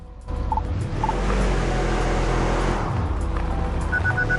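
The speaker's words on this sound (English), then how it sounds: "Start by accelerating, then stop by braking in the marked zone" A personal UTV in the driving game Overpass 2 revs and pulls away, a steady low engine drone that rises in pitch as it accelerates, loud and continuous, with a few faint chimes partway through and again near the end.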